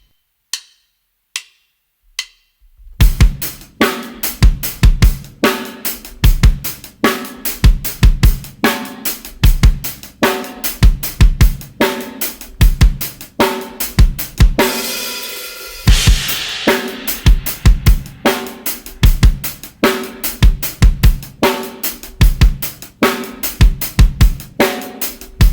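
Drum kit playing a driving 16th-note groove with accented eighths, preceded by a few sparse hits, then loud, dense and continuous with a brief cymbal wash midway.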